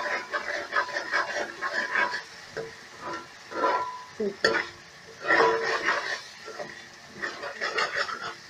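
A spoon stirs green chilli masala frying in a pan, giving soft, repeated scraping bursts over a steady close sizzle.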